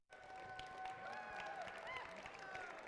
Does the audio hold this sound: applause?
yes